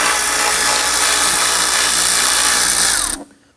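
A power driver with a socket spins out 8mm bolts on the air intake of a 2003-2014 Volvo XC90, a loud, continuous whirring buzz held for about three seconds before stopping abruptly.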